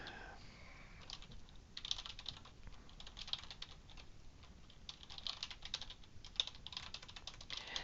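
Someone types on a computer keyboard in a steady run of quiet, close clicks and taps, with small irregular bursts and pauses between keystrokes.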